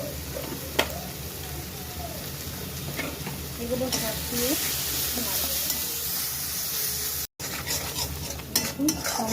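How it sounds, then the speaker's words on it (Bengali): Red chili, turmeric and coriander powders fry in oil for peanut paneer masala, a continuous sizzle broken by scraping stirs and light clinks of a utensil against the pan, with someone speaking intermittently over it. "সমস্ত মশলা আমার ভালো করে ভাজা হয়ে গেছে"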